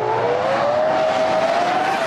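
A Formula 1 car accelerates hard off the starting grid, its loud, close engine note climbing steadily in pitch as it pulls away, with a rough edge of tyre and track noise underneath.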